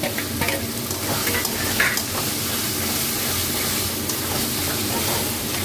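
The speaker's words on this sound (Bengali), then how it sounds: "পনিরটা দিয়ে নাড়বো" Paneer is stirred in a frying pan over a loud, steady sizzle and hiss, with soft scraping strokes of the spatula close by and nobody speaking.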